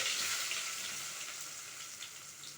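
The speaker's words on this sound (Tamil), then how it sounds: "பீன்ஸு, கேப்சிகம், கோஸ் எல்லாத்தையும் போட்டு நல்லா வதக்கிக்கோங்க" Beans, capsicum and cabbage sautéing in hot oil with onion and ginger-garlic paste for noodles, a steady close sizzle and crackle running the whole time with no talk.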